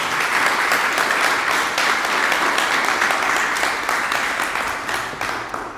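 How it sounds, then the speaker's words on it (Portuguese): A church congregation applauds, dense sustained clapping filling the room, loud and steady before easing slightly toward the end, with no speech over it. "E você, por favor, aplauda Jesus."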